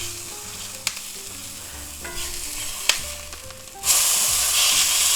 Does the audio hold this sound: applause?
no